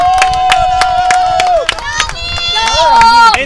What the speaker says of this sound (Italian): Applauso per il Barcellona.